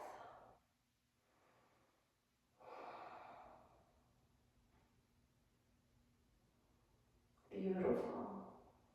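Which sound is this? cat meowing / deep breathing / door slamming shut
deep breathing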